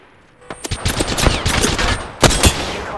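Bursts of automatic video-game gunfire break out after a short quiet start, a rattling string of loud close shots followed by a pause and a final pair of sharp cracks.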